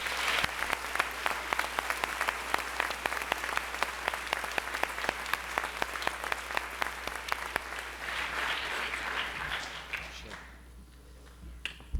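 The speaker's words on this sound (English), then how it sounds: "Please give them a round of applause." An audience applauds at a high school spring orchestra concert, sustained clapping with crisp individual claps that fades out toward the end, leaving a quiet room with a low hum.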